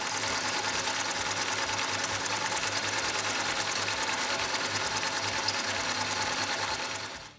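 A milling machine takes a conventional cut in 4140 steel while making a shop-made fly cutter, a continuous close mechanical chatter and whir that runs steadily before fading out at the end, with no voices.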